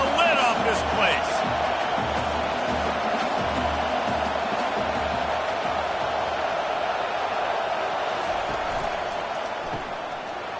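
A packed stadium crowd roars in a college football video game, Vanderbilt at Texas, as a loud, sustained wall of noise that fades slightly near the end, with commentary voices over it.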